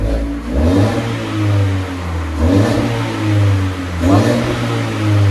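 A 2014 Ford Fiesta with a rumble muffler revving up three times, its engine rising and falling in deep, loud, throaty surges close by over a steady idle, with no talking.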